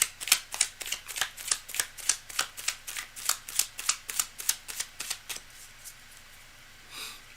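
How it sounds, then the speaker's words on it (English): Rapid, rhythmic riffle of tarot cards being shuffled, about twenty crisp flicks close by, slowing and fading at the end, no speech. "Cards are shuffled."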